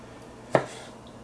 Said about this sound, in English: Roughly chopped.